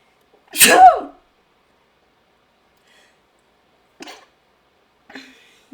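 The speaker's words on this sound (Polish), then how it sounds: "Kichnę, kichnę, na stówę kichnę." A single loud, close sneeze from a woman with a cold, a sharp burst followed by a few faint rustles and small breaths.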